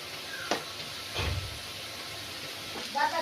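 Tangra fish hit a hot pan with a soft, low sizzle and hiss, marked by a few brief bursts of splatter and stirring at moderate distance.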